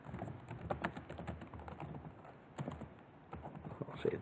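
Someone types on a computer keyboard in quick, soft, uneven keystrokes, close and fairly quiet, with a faint voice underneath.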